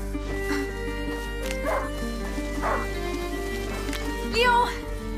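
A hunting dog in A Plague Tale: Innocence gives several short yips and whimpering barks at spaced intervals over a steady, droning musical backdrop, with the last bark the loudest.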